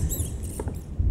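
A rat's small feet patter and scurry in a quick, close burst lasting about a second, as a scurrying sound effect.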